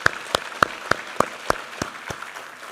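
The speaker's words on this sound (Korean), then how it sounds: "우리 하나님께 감사와 영광의 박수 올려드리겠습니다." Rhythmic clapping in a church Sunday service, about eight sharp claps evenly paced in unison, fairly close and clear.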